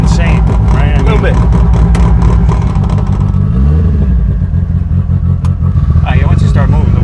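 A 943hp Mitsubishi Evo 9 drones loud and near, with a steady engine roar that shifts pitch as revs change partway through. People talk over the engine throughout.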